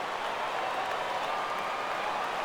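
A baseball stadium crowd in the MLB 15 The Show video game roars steadily as fans rise for a full count, a dense even wall of cheering and applause at constant loudness.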